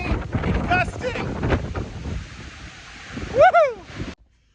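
Strong gusting wind from a winter storm with winds of 90 to 120, roaring steadily against the microphone before a sharp, loud gust near the end.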